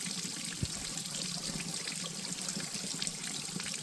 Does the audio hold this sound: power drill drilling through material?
no